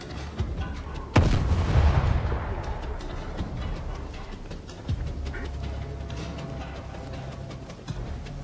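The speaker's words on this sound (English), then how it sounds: "Grenade." A grenade explosion in S.T.A.L.K.E.R. 2: Heart of Chornobyl, a sudden loud boom with a rumbling decay, followed by a few more distant shots or thuds amid game ambience.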